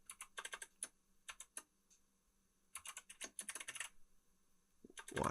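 Typing on a computer keyboard that behaves oddly: bursts of quick, close keystrokes separated by short pauses, with a few spaced single presses, fairly quiet with no talk.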